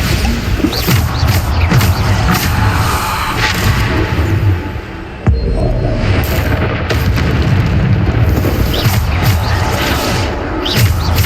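Bombarda spell explosions in Hogwarts Legacy, loud booming blasts over dense game noise, with a sharp impact near the middle followed by continued rumbling.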